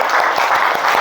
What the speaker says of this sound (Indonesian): Terima kasih Sina, mana tepuk tangannya